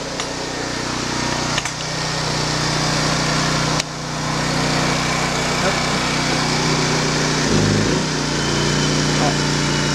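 A STIHL RE 98 pressure washer runs together with a generator, a loud steady engine drone with a low hum throughout, broken by a couple of sharp clicks and a brief dip in pitch near the end.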